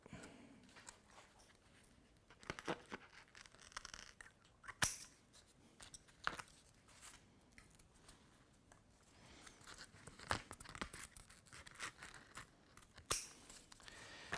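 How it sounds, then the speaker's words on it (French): Curved scissors trimming velcro straps flush on a thermoplastic orthosis, giving faint, close snips and small rustling clicks at irregular intervals over a quiet background. "On se sert du ciseau courbe pour venir couper les velcro"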